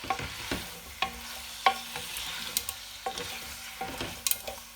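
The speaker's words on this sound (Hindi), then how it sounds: "तो ये भी मैं थोड़ा हिला लूँगी ताकि तेल के सारे फ्लेवर आलू में भी चले जाए" Chicken and potatoes fry in oil in a pan while being stirred over low heat, giving soft steady sizzling broken by regular scraping knocks from the spoon, close up and with no talking.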